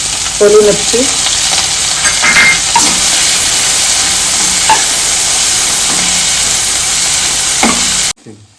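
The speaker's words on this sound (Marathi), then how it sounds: "कांदा टाकणार लसूण कढीपत्ता" Onion, garlic and curry leaves fry in a hot pan with a loud, steady sizzle that runs almost the whole time, marked by a few brief stirring scrapes, and it cuts off abruptly at the end.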